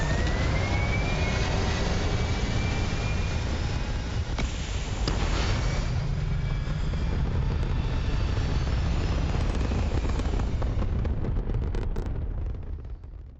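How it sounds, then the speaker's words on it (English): A spaceship lifting off in Starfield, a steady, loud, continuous engine roar with a deep rumbling low end and a rising whine, sustained throughout before fading at the end. "We are cleared for liftoff."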